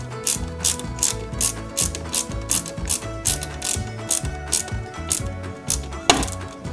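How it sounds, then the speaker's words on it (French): Rapid ratcheting clicks from a screwdriver come in close, rhythmic bursts as small screws are driven into the chassis of a Bugatti Veyron 16.4 Super Sport scale model, ending with a sharper knock. "on met deux autres vis DS02 sur la pointe du châssis ici et là"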